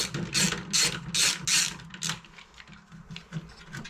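A ratchet clicks in rapid bursts while backing out small 1/4-inch hex screws from a refrigerator's access panel, close up, with a few pauses between runs of crisp clicking.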